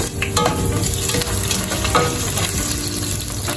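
Sliced onions hit hot oil and are stirred in a pan, giving a continuous loud sizzle with scraping stir strokes during home cooking of a Filipino meal.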